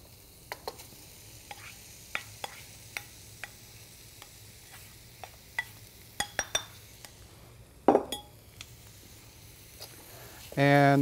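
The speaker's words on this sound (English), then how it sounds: "Next thing you want to do is add your rice." Rice goes into a hot pan for shrimp fried rice under a low, constant sizzle. A spatula scrapes and clicks against the pan in sharp, irregular taps, with a louder metallic clatter near the end.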